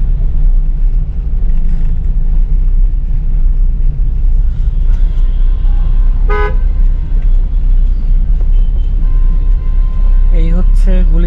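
Buses and cars sit jammed in Gulistan traffic under a loud, constant engine rumble, with a couple of short horn toots breaking through near the middle and end.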